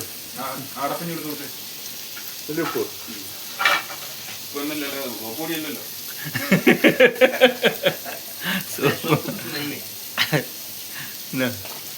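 Onions fry in a pan for sardine curry, giving a continuous close sizzle under a person talking, with a burst of rhythmic stirring and scraping clatter midway.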